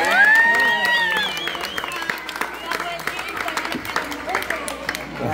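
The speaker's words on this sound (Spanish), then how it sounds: "¡Aplauso!" Applause and clapping from a small crowd at a birthday celebration, loud and steady at first then thinning into scattered claps, with voices and cheering mixed in throughout.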